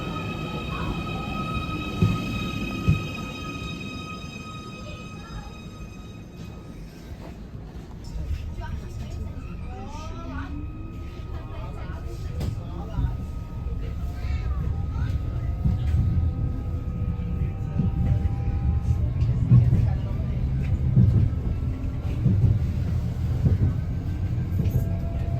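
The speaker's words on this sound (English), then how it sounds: "let's jump onto this train and take it one step down to Cressington" A Merseyrail electric train pulls out on the short run to Cressington, with a low rumble and wheel noise building steadily, sliding motor whines and squeals overhead, and a person talking over the early part.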